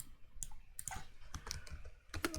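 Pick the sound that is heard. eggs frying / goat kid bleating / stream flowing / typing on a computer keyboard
typing on a computer keyboard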